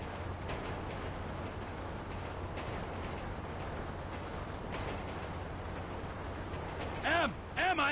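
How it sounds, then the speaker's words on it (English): A train in Grand Theft Auto V rumbles past with a steady low mechanical roar and occasional creaks, and a few voices call out near the end. "Train ain't stopping here, boys!"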